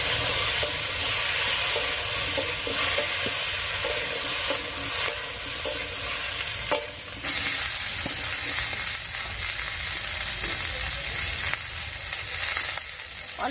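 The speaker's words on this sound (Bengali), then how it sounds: "ওই একই তেলে আমি ফুলকপিটা ভেজে নেব।" Cauliflower frying in hot oil sizzles and crackles steadily and loudly, with occasional stirring scrapes and brief dips in the hiss, no voices.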